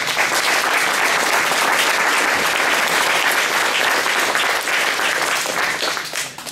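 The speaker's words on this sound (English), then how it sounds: "I just want to give one more round of applause" A crowd of volunteers claps steadily for a sustained stretch, dense and even throughout, fading slightly near the end.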